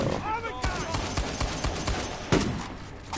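Rapid gunshots in Uncharted 4, a busy run of sharp reports and one heavier blast near the end, close and steady beneath someone speaking.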